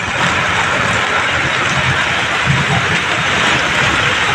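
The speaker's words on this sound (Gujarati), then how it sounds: "ઘણો વરસાદ છે" Heavy monsoon rain pounding the old vegetable section of the Rajkot market yard in Gujarat, with water flowing through the flooded lanes, a loud dense continuous roar with no breaks and no talking.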